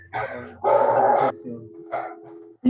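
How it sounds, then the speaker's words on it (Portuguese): Pet dogs bark at home in short loud bursts, one long run of barking followed by a brief yip and another sharp bark at the end, with a low hum beneath. "Danilo, estão os meus cachorros aqui que estão latindo"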